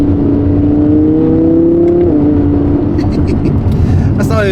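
A supercar engine, not yet warmed up, revs loud and close with a steady droning tone that dips in pitch partway through, followed by higher bursts as the revs change, with a voice talking over it.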